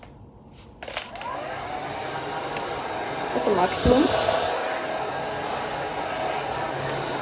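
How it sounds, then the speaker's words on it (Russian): A hotel room hair dryer switches on with a click and runs as a steady, loud whine with breathy airflow, rising briefly mid-run as it's moved, while someone speaks briefly over it. "Хочу показать, как работает фен в нашем номере"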